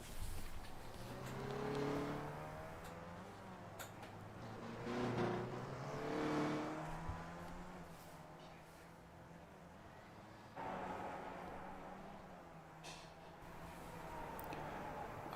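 A race car engine at Zandvoort in iRacing revs up and down through gear changes, rising and falling in pitch with steady whining tones, moderately quiet and with no talk.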